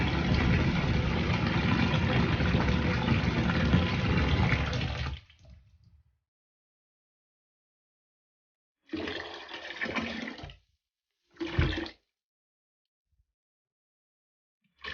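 Water, mixed for an apple cider rinse, is poured into a basin: a loud, steady rushing pour for about five seconds that tapers off, followed by two shorter splashing bursts, heard close with no talk.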